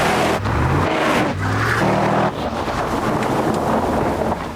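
A Brabus-tuned Mercedes E-Class with a 7.3-litre engine roars loudly and close, its deep rumble rising and falling through revs with wind buffeting, no talking.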